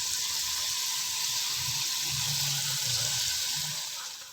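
Masala spices roast in a hot pan while making potato rice (aloo chawal), giving a steady, even sizzle that holds throughout with no one talking.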